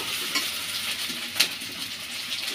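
Sliced onions fry gently in a pan, giving a steady close hiss and sizzle with a few scraping stirs breaking through.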